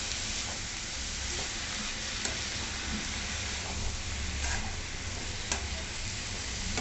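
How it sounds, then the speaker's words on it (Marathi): Spinach and dill leaves are sautéed in a pan, giving a constant close-up sizzle with soft stirring scrapes and occasional small ticks throughout, with no talking. "आता शेपू परतवून झाल्यानंतर आपण पालक टाकून घेतला। पालक पण छान असा परतवून घ्यायचा।"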